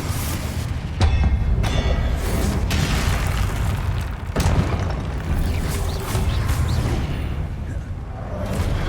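Confringo blasting spells explode in the video game Hogwarts Legacy. Several booming bursts strike at uneven intervals over a dense, rumbling game soundscape.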